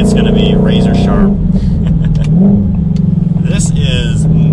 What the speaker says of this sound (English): I love that exhaust